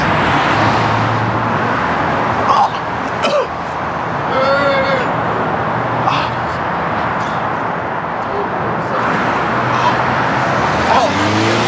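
Road traffic passes close by in a steady wash of engine and tire noise, with people talking over it on the roadside.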